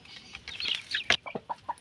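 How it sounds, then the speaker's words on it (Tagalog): A laying brood hen clucks in a quick series of short, close calls with a few sharper squawks, mostly alone against faint background noise. "at nandito na tayo sa ating nag-iitlog na broodhen"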